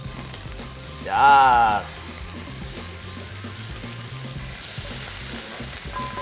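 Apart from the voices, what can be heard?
kimchi fried rice sizzling in sesame oil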